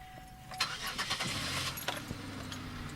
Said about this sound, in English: So here, starting the car.